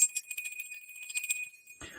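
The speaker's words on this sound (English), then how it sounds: "We cleanse the space with the bell" A small bell rung once to cleanse the space before a tarot reading gives a clear, bright tone that rings on and slowly fades, followed by a brief soft rustle.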